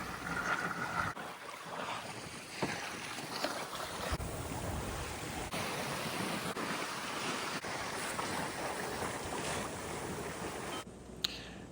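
A sailboat under way on Long Island Sound, with the wind picking up: continuous wave wash and rushing water against the hull, with steady wind buffeting the microphone throughout.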